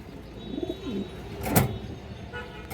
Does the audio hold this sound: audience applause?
no